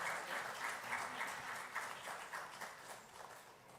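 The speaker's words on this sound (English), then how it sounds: "Let's have a big round of applause, ladies and gentlemen, once again for Shri PVS Suryakumar." A seated audience at a soil health conference claps steadily for a speaker, a dense, even round of applause that holds throughout and eases slightly toward the end.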